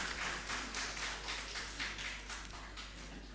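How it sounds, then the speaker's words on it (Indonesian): Applause at a Halal Bihalal gathering of East Java's provincial social services office, a moderate patter of scattered hand claps sustained for a few seconds under a low room hum. "tepuk tangan boleh ya"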